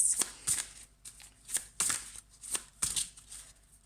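Oracle cards being shuffled by hand, a quiet series of about eight crisp riffling bursts at a loose, irregular rhythm, each a short papery flutter separated by brief near-silences, close up with no talking.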